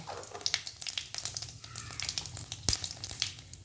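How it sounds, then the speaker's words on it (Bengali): Whole cumin seeds and a bay leaf hit hot oil left from frying eggs, giving a steady close crackling sizzle with scattered sharp pops and one loud snap near the end, no talking. "ডিম ভেজে নিয়েছিলাম ওই তেলে গোটা জিরা ফোড়ন দিয়ে দিচ্ছি তেজপাতা দিয়ে দিচ্ছি"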